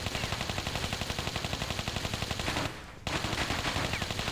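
Rapid automatic gunfire from heavy weapons on the target range in Tomb Raider 3, loud and close with a fast even rhythm, pausing once briefly before resuming, with no speech over it.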